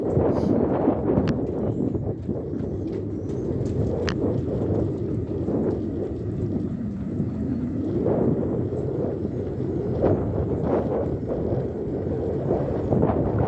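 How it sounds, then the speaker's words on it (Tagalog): Wind buffets the microphone during a cable car ride at Marzahn in Berlin, a continuous loud rumbling gust noise that swells and eases throughout with no talking. "Oh, mahangin."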